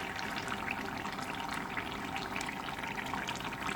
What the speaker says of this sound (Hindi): अब इसमें इस पॉइंट पे मैं डालूँगी इसमें जो हमने दही का पेस्ट किया था सारे मसालों के साथ